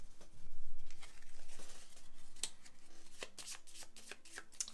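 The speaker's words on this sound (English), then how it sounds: "I can just go ahead and shuffle my deck." A deck of cards for the board game Lost Ruins of Arnak being shuffled by hand, a run of soft riffling patters and light snaps, close and quiet with no talking.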